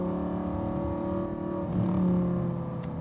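A modified Lamborghini Gallardo LP560-4's V10 engine revs with a steady, strong droning tone that swells slightly midway, loud and close, with no talking.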